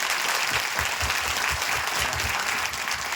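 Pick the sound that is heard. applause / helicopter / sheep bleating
applause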